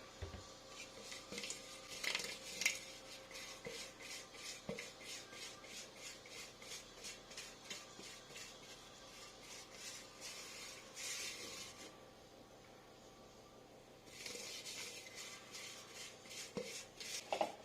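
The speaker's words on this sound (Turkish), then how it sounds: "Kalıbımın her tarafını iyice yağladım, unladım." Fat is rubbed around a cake tin and flour is scraped in, giving rapid rhythmic rasping strokes with a brief pause near the end, quiet and close, no voices.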